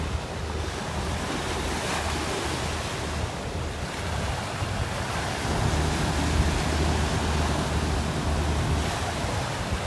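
Strong wind buffets the microphone over a continuous roar of surf and breaking waves at a Gulf beach, loud and steady throughout.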